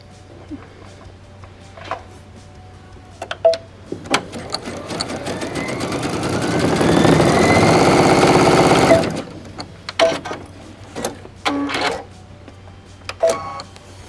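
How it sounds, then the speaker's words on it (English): A sewing machine stitching clear elastic runs in a sustained whirring burst of rapid stitching for a few seconds, framed by clicks, taps and short handling noises before and after. "This can be inserted with the serger or the sewing machine."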